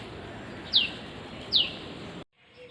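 Birds chirp in a rooftop flower garden on a morning, two bright, sharp, clear calls spaced apart over a soft steady background hiss, before the sound cuts to near silence.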